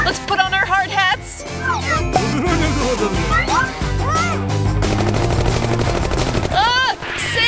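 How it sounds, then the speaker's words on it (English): Rapid bursts of gunfire crackle through an animated cartoon attack, mixed with excited voices and busy cartoon sound effects. "They're shooting us down!"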